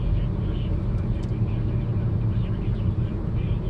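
Road traffic on a highway near Stamford, Connecticut, with trucks passing: a steady, loud low rumble of engines and tires that runs throughout with no break.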